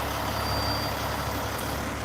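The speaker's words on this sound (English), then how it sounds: "For a beat up old dump truck." A beat-up old dump truck idles with a steady, loud diesel rumble, continuous and unbroken at close range, with no talking.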